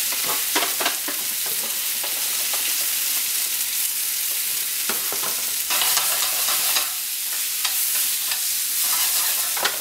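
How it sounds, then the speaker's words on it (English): Mushrooms and onions frying in a pan, a steady close sizzle broken by repeated scraping and stirring strokes, with no talk. "Put some of these remaining mushrooms and onions. Get them in there."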